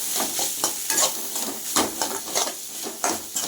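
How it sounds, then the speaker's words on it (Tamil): Beetroot and drumstick-leaf poriyal stir-fried in a pan over high flame, with a spatula scraping and tossing in quick irregular strokes over a constant sizzle, close and loud with no speech. "நல்லா ஹை ஃப்ளேம்லேயே வச்சு கிளறி விடுங்க"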